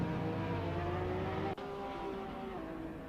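Race cars lap the Slovakia Ring in a sim racing game, with a sustained high engine whine and a brief sharp cut midway before the engine note resumes and climbs again.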